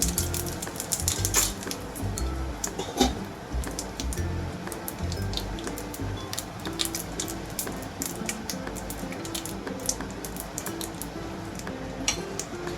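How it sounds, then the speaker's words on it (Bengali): Whole cumin seeds tempering in hot mustard oil for a brinjal dish, giving a steady dense crackle with sharp pops and clicks throughout, close and fairly loud, no voices. "সর্ষের তেলটা গরম হতে হতে গোটা জিরে একটু ফোড়ন দিলাম"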